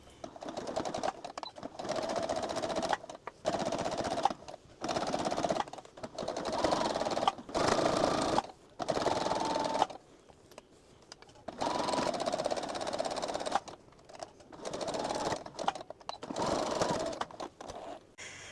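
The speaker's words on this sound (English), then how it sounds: "Once I have my zipper serged, I am now going to take this to my sewing machine." A sewing machine top-stitches a zippered beach towel pouch in repeated bursts of a few seconds each, separated by short pauses, close and steady.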